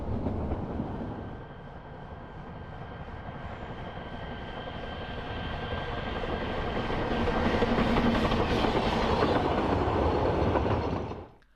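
A narrow gauge steam locomotive, replica Taliesin, rumbles past steadily on the Welsh Highland Railway with a faint whistle-like tone, growing louder toward the end before cutting off; no voices.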